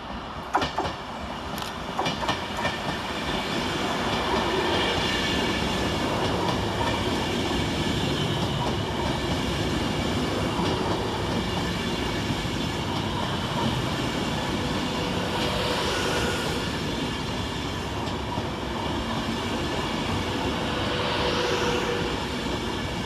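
An Avanti West Coast train on the Preston to London Euston service runs through Aston station, a loud, sustained roar of engine and wheels with rhythmic clickety-clack over the rails, close by and continuous throughout.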